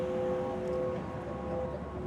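A steady, low droning hum with sustained tonal lines rises from a subway grate sound installation in Times Square, New York, over distant urban background noise, continuous and unchanging throughout.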